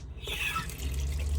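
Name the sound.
water running from motorhome tap with pump on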